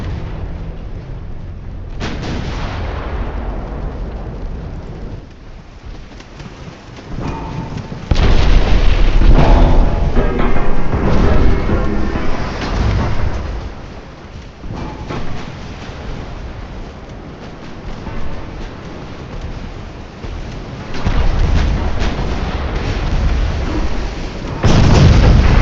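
Naval battle in the game Ultimate Admiral Dreadnoughts during a torpedo run on a burning ship: rolling booms and heavy explosions over a continuous wash of sea noise, with loud bursts around the middle and again near the end.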